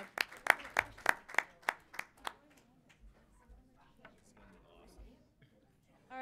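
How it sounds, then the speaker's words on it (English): A few people clap for a band at a school gathering, a string of sharp, close claps that fades out after about two seconds, leaving quiet room murmur and faint talk. "We can get a round of applause for band."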